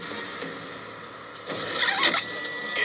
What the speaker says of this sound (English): Need to get a downshift now. Make a downshift.